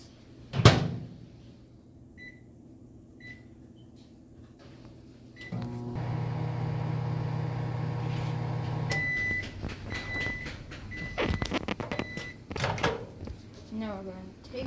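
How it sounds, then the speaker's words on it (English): A microwave oven heating water: a door thud and beeps from the keypad, then a steady loud hum while it runs, followed by more beeps and clicks near the end, with speech over parts of it. "Now we are going to put the water in the microwave"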